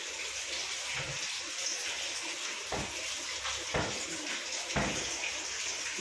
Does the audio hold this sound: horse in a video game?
no